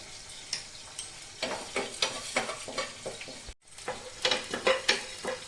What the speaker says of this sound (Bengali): মশলাটা আমি ভেজে নিব।